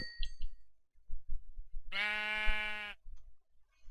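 A Minecraft sheep gives one clear, drawn-out bleat, about a second long and close by. Soft game sounds and footsteps fill the quiet before and after it.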